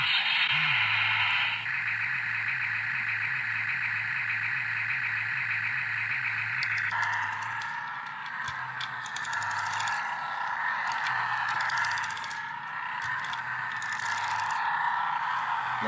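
Tomica 4D die-cast toy ambulance plays its recorded engine sound, a steady idling drone with a pulsing low rumble, close and alone, shifting in tone partway through as if revving or reversing.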